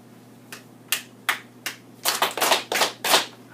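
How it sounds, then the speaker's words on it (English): A teacher and a third-grade class clap in a classroom: a few sharp single claps spaced apart, then a quicker burst of several claps close by. "when I clap, you clap"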